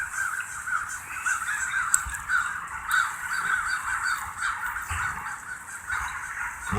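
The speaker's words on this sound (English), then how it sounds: "Little bird activity going on." Crows caw repeatedly at a moderate distance, harsh calls coming in an uneven sequence over a soft outdoor background.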